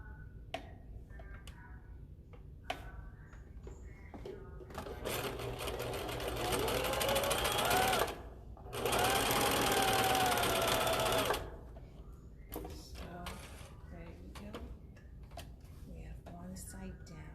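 A sewing machine stitches a half-inch seam allowance in two steady buzzing runs of a few seconds each, close and loud, separated by a short stop, with quieter handling clicks before and after.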